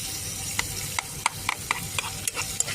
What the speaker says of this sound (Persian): اول پیاز خلالی مکنیم، هم بزنیم تا خوب سرخ بره.